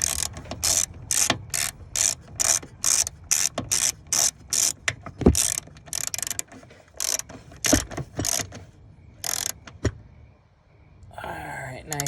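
A hand ratchet tightens the battery hold-down on a 2020 GMC Sierra Denali, making quick, close clicking bursts in a steady back-and-forth rhythm, with a few louder knocks and a short pause near the end.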